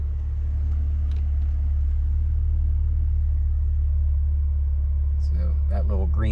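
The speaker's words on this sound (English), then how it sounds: "So now if I press the gas a little bit, we won't go anywhere because we're in park." A 2020 Ford Explorer ST engine idling in park with light throttle, a steady low rumble close by, with a voice talking toward the end.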